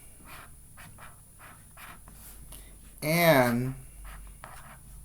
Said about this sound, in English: So I'm going to write the